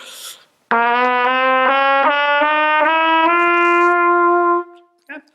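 Around seven clear trumpet notes climb step by step through the valve combinations from longest to shortest tubing, played legato and loud at close range, ending on a long held top note.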